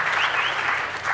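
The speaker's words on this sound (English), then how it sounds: "Please, another round of applause for the organizers and the sponsors." Audience applause at a programming conference talk, a dense steady clapping from a crowd sustained loud and close for the whole moment.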